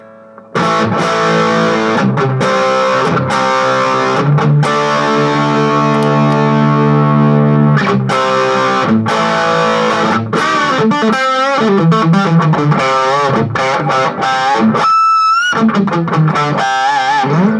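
Distorted electric guitar through a humbucker pickup, loud and continuous: sustained chords, then picked single notes with bends and a high squealing harmonic near the end, played alone.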